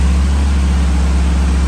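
A 1983 Porsche 924 engine idles steadily at close range during an idle speed and fuel mixture adjustment, giving a constant low rumble with no speech over it.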